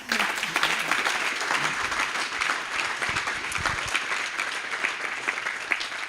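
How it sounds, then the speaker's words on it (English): An audience gives a sustained round of applause at a talk event, dense steady clapping from many hands that holds for about six seconds with no speech over it. "let's give them one more round of applause"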